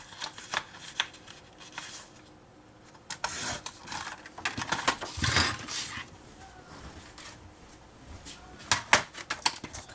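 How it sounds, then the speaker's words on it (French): Paper card is being cut for a scrapbooking box, a close run of rough, irregular scraping and snipping rustles with a few sharper clicks and brief pauses, without speech. "Je vais couper."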